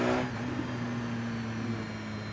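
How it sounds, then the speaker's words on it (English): A 2016 BMW S 1000 RR stock exhaust rumbles at a steady high idle after a short rev, with faint pops in the steady engine drone. "stock exhaust is pretty fucking nice. It's popping, making some very nice sounds."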